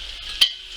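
Bacon frying in butter in a pan, a steady close hiss of sizzling fat with one brief louder crackle partway through.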